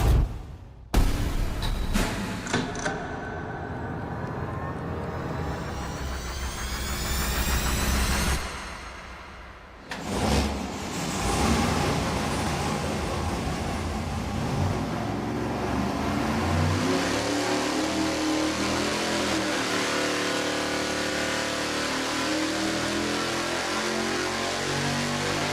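A roughly 1,000-horsepower engine runs at wide open throttle on a dyno, exhausting through mufflers: a few short blips, then a loud sustained roar that climbs and holds for many seconds.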